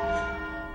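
The large church bell Black Tom, as heavy as a small car and rung by hand with a rope, gives a single sustained ringing tone with rich humming overtones, moderately faint and alone.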